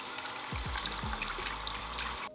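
Water running or pouring for cleaning Jordan 1 sneakers with a Reshoevn8r kit, a steady close trickling stream lasting about two seconds before cutting off abruptly, with a few low thumps near the start.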